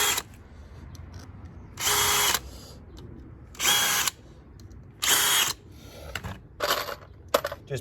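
A power drill bores pilot holes through joist hangers into composite decking joists, four short whirring bursts of about half a second each, close and loud, with clicks and tool handling in the gaps.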